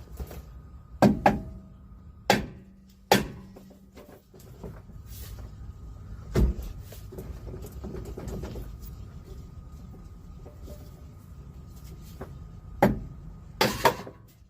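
Sharp, loud metallic strikes from a baby sledgehammer on a Toyota Tacoma driveshaft, landing in scattered blows: a couple near the start, a few more spaced through the middle and a quick cluster near the end, over low garage background noise.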